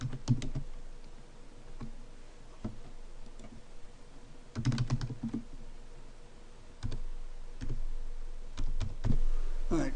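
Scattered bursts of computer keyboard typing, quick clusters of key clicks separated by pauses, close and fairly quiet in a room with no talking.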